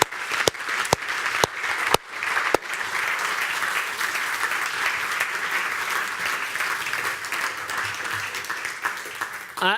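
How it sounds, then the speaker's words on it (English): Audience applause at the close of a Digital Day 2018 event: a few sharp, separate claps at first, then dense, steady clapping from a large crowd that holds for nearly ten seconds before breaking off. "I think they really deserve a big round of applause"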